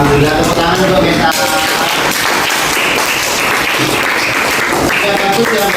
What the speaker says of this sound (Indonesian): tepuk tangan untuk Meta.